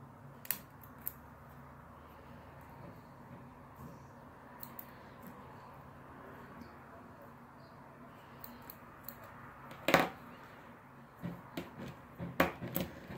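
Scissors cut through the sleeve of an old denim jacket in quiet, close snips, faint and sparse at first, then a few sharper crunching cuts toward the end over a low room hush.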